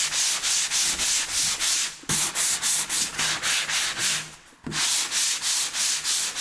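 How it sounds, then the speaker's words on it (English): A grooved Hume door is hand-sanded with steady back-and-forth strokes, a close, loud rasping rhythm that stops briefly twice and then carries on, with no voices. "this is all you really need to sand these doors with"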